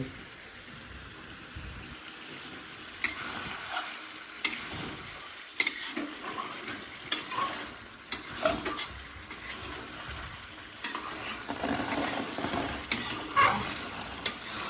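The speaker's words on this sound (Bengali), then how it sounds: "মাংসটা ভালো মতন কষিয়ে নিতে হবে" Chicken pieces are sautéed in a pan for a thin chicken and potato curry, soft sizzling under intermittent scraping strokes of a spatula, fairly quiet and close, with no talking.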